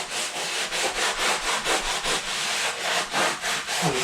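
A wet sponge scrubs back and forth over a drywall patch in quick, regular rubbing strokes, close and fairly loud.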